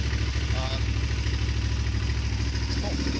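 A motorcycle engine idles steadily while warming up, a loud, low, continuous rumble with a faint rhythmic pulse. A voice talks briefly over it.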